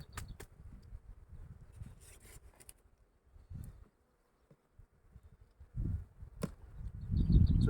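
Honeybees buzzing softly around an opened hive frame during spring rapeseed bloom, a low hum rising and falling with quiet rubbing and wooden knocks, louder bursts near the end.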